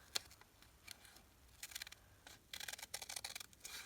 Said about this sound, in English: I'm going to go ahead and fold it in half and cut it